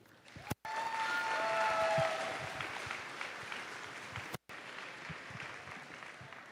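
Audience applause fills a hall at a robotics competition, a broad crowd wash that swells early and then holds steady, with two brief dropouts and no talking.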